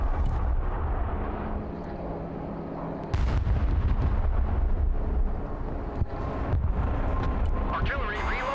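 Rocket artillery fires in the Broken Arrow military strategy game, heavy booming launches and blasts rolling over a dense battlefield din, with a louder burst partway through and radio-style unit voices over the top.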